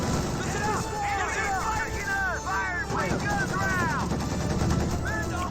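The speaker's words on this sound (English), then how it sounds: "the half-track is constantly firing away against these forces" MG34 and half-track machine guns firing in the Company of Heroes 2 battle, rapid bursts rattling through a busy mix of battle noise and whooshing effects, heard under continuous commentary.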